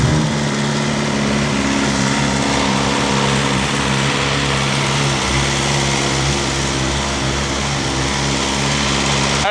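A BMW S1000 RR M Sport motorcycle engine with about 22,000 miles, running at a steady, loud idle throughout, a dense continuous drone with no talk.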